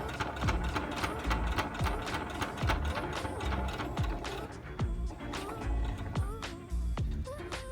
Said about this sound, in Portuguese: A gente segue com a costura.